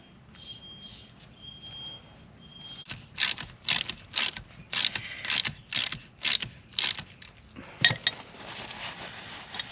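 A ratchet turns an oil drain plug on an H22 cylinder, giving a run of about ten sharp metallic clicking bursts in a steady rhythm, close and clear after a quiet start.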